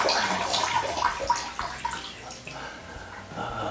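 A stream of urine trickles and splashes into a toilet bowl with a steady watery pour that gradually thins, fairly close and alone without talk.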